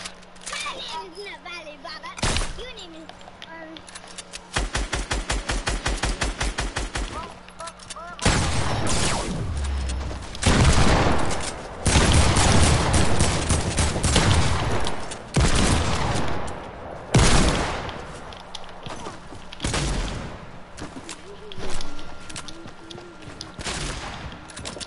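Rapid gunfire in an online shooter video game, with fast rattling automatic bursts and heavy loud shots filling most of the stretch, close and dense, mixed with game noise.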